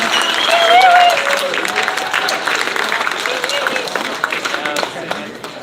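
A crowd at a fight weigh-in event cheers and applauds loudly, a dense roar of claps and shouts that swells early and then holds steady, with voices mixed into the noise.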